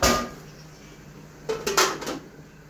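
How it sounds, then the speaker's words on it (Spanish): A metal lid set down onto a pot of rice, giving a couple of quick clanks and rattles close by after a short bump at the start. "Ahí lo voy a tapar."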